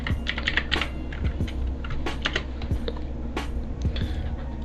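Rapid, uneven clicking of computer keyboard keys, close and clear, tapping out a short word in irregular bursts with no talk over it.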